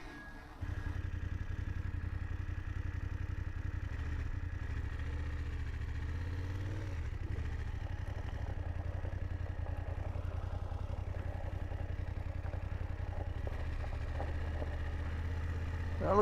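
A motorcycle fitted with a Madstad windshield, ridden on winding mountain roads in western North Carolina, giving a steady, loud engine drone and rumble with wind noise that starts within the first second and continues unbroken, with no talking.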